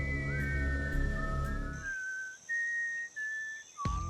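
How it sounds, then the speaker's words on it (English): Saviors in The Walking Dead sound a Mockingjay-style signal whistle: clear, sustained whistled tones in a short melodic call, first over a low rumbling backdrop, then ringing out alone with answering higher pitched notes. "The Saviors approach, doing a weird Mockingjay whistle thing."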